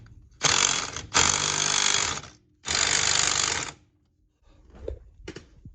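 A 3/8 ratchet wrench tightens bolts on a new steering rack in a Mercury Zephyr, heard as three loud, close, buzzing runs of rapid clicking, followed by a few faint knocks.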